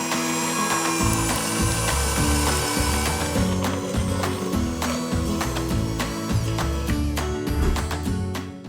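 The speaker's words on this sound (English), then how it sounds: "use an electric hand mixer to get it all creamed together" An electric hand mixer creams sweetened condensed milk in a bowl, its motor whining steadily with a rattling, grinding texture throughout and no talking.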